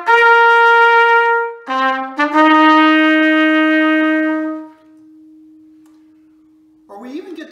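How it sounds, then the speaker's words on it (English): Trumpet plays a short, bright march or movie-music phrase of several notes, loud and close, ending on a long held note that fades before speech starts. "Or we might play a march or movie music that sounds like this."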